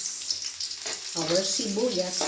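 Onions frying in a pan alongside tofu and shrimp, a steady bright sizzle with some stirring, fairly close and continuous, with tonal background sound partway through.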